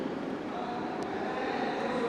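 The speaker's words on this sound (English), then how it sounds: "this is aeroplane" A faint steady drone of an airplane, a continuous airy engine hum with no distinct peaks, heard alone for about two seconds.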